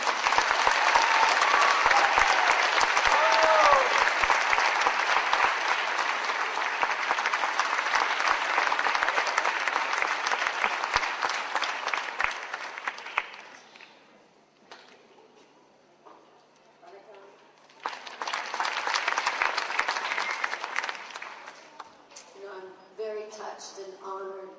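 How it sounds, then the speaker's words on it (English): Audience applause fills a hall at a Tamil community convention, loud and sustained for about thirteen seconds, fading out, then swelling again briefly before a voice begins speaking. "Will you please give us some kind of applause?"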